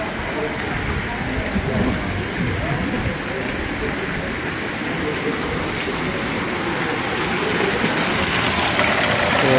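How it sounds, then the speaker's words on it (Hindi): Fountains in the Generalife gardens of the Alhambra, Granada, give a steady broadband rush and splash of flowing water, continuous and fairly close, swelling slightly toward the end. "यहाँ भी काफ़ी फाउंटेन लगे हुए हैं।"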